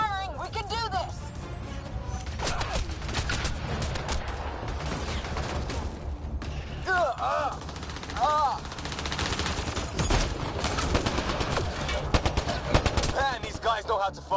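Heavy sustained gunfire in a Mass Effect: Andromeda battle, with dense rapid bursts and explosions filling the scene loudly, while voices shout over the fighting.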